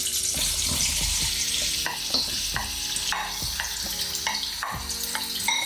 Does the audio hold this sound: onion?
yes